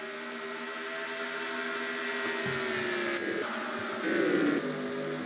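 Race cars roar around the Dover oval in the NASCAR Racing 2003 video game, a steady, loud engine drone with shifting pitch as the cars pass, heard alone.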